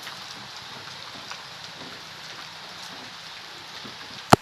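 Light rain falls steadily with a soft, even hiss throughout, then a sharp, loud knock sounds near the end.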